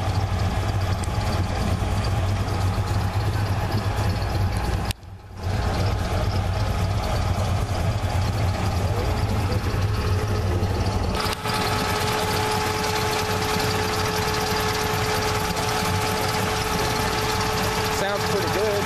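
Truck engine idling at a truck show, a steady deep rumble close to the microphone, briefly cut off near the five-second mark, then running on with a faint whine layered over the throb.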